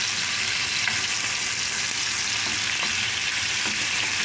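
Egg and tomato fry in plenty of oil, giving a dense, continuous close sizzle with faint stirring clicks and no talking.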